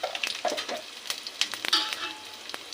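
Mustard seeds, dried red chillies and cumin hit hot oil in a pan, giving a dense crackling sizzle with scattered pops and spits throughout, close and fairly loud, with no voice.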